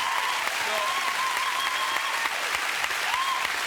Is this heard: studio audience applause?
yes